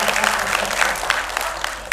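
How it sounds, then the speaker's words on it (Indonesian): Applause from an audience at an Indonesian entrepreneurship seminar, a dense steady wash of many hands clapping close by, with a few sharper claps standing out through the two seconds. "silakan tepuk tangan."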